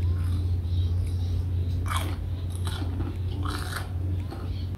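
Crunchy bite into vegan breaded fried fish, two crisp crunches about two seconds apart, close up over a steady low hum.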